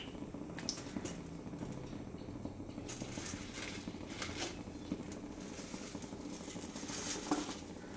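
Urad dal dropped into hot oil in a pan for mint chutney, a soft steady crackle and patter of frying with faint clinks throughout.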